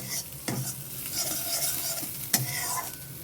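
Close sizzling of onions browning in a pan, with a couple of sharp spatula scrapes against the metal over a steady frying hiss.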